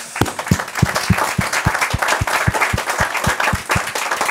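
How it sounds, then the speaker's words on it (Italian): Audience applause at the opening of a conference, steady and loud, with sharp regular claps standing out over the sustained sound of the crowd clapping, no voices. "un applauso."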